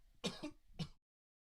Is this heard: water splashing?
no